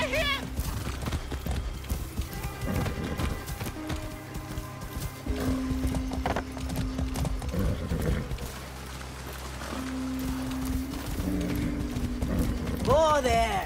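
A horse in the video game Far Cry 6 clip-clops steadily with rhythmic hooves and whinnies near the start and end, mixed with game music and some voices.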